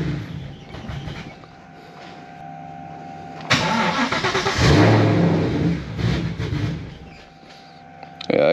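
A twin turbo Coyote V8 with an upgraded Volvo fuel pump, switched from E85 back to pump gas, struggles to run. A quiet whine comes first, then the engine catches loudly, revs roughly and sputters before fading, and a short burst follows at the end.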